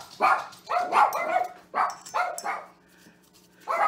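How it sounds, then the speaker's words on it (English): Several dogs barking indoors as though someone is at the door, a string of loud close woofs in uneven bursts with short pauses between them. "Once again, the dogs are convinced there's somebody here."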